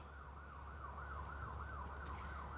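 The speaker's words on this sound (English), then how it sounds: "if you're hearing sirens in the background, it's because there's a street over there" A distant wailing siren rises and falls in a steady, repeating pattern, faint and continuous over low background rumble, from a nearby street in North Carolina after Hurricane Helene.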